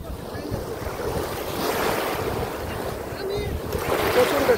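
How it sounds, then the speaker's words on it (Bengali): Strong ocean waves crash on a beach at Al Jassasiya in Qatar, a loud, continuous roar of surf mixed with gusty wind buffeting the microphone, rising and falling in broad swells. "আর এই প্রচন্ড ঢেউ"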